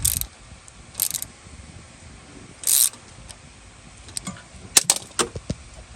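A ratchet snugs a 10 mm wheel speed sensor bolt on a Chevy Malibu rear knuckle, giving a few short sharp clicks in bursts with quiet pauses between, close and alone.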